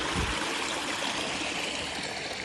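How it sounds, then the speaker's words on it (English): A year-round canyon stream near Amed, Bali rushes and trickles in a steady, close wash of water noise, broadband and unbroken, with no voices. "And this water flows all year long"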